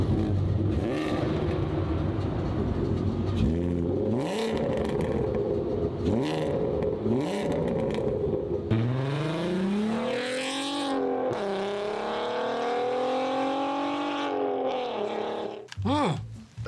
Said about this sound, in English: Next engine.